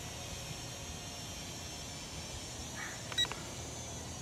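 A Snaptain SP650 camera drone in flight, its steady faint propeller whine droning throughout with a couple of brief beeps near the end.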